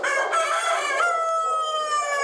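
A rooster crows loudly and close by in a single sustained call, with hens clucking faintly beneath it, inside a crowded animal shelter.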